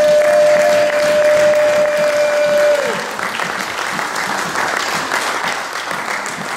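A church congregation applauds in a dense, loud burst of clapping that eases off and thins slightly after a few seconds but keeps going to the end.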